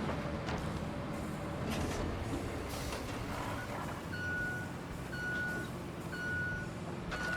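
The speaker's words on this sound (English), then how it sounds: "trucks coming through here" Truck reversing beeps in the video game Roadcraft, a steady high beep repeating about once a second in the second half, over a low engine rumble and ambient noise.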